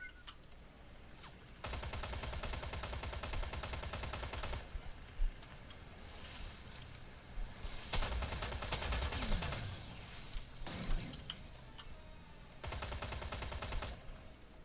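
Gunfire in the video game Terminator: Resistance, with sustained bursts of rapid automatic fire in several long stretches broken by shorter gaps, loud and close.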